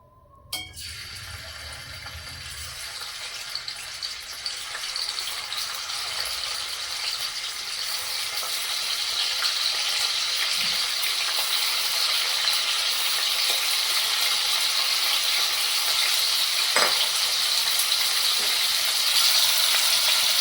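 Paneer frying in a pan while cooking mixed vegetables, a steady hissing sizzle that builds after a brief start and grows louder, with occasional faint clinks of a utensil.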